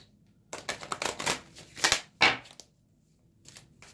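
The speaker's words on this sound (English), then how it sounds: "This deck doesn't shuffle all that." Tarot cards riffle and snap in several quick bursts, a pause, then a final soft shuffle, close and fairly loud.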